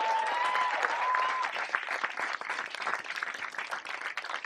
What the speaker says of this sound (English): Give a round of applause to Sean Connery.